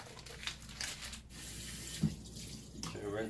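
A kitchen tap runs onto meat being rinsed for tamales, a close, steady splash and gurgle of water with small shifts as the pieces move under the stream.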